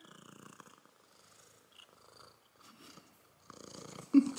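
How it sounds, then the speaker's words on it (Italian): A cat purrs close by in a soft, steady rhythm, with low rumbling pulses that rise and fall through quieter gaps before swelling again. "Stellina, fai le fusa fortissime"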